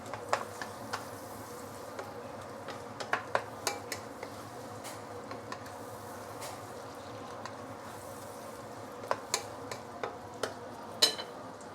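Sambal prawns stir-fry on high heat, a soft steady sizzle broken by scattered sharp ticks and spatula taps, fairly quiet and without talk.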